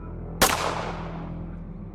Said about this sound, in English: Almost instantly I raised my rifle and fired,